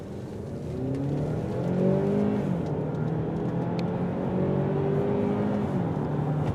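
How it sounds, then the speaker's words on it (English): A 2015 Hyundai Santa Fe Sport 2.0T AWD SUV accelerating hard from inside the cabin, engine note rising through gears in steady sweeps, moderately loud with continuous road noise. "We're going to go over here and take an acceleration and see what this car can do."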